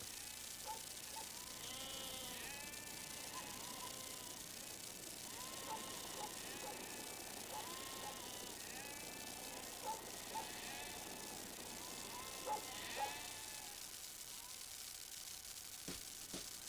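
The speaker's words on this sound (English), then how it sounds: "a special breed of sheep seems to thrive here" A flock of sheep of a special breed bleat repeatedly out on the open heath of the Nuremberg moors, many overlapping calls at varying distances over a steady faint background hiss.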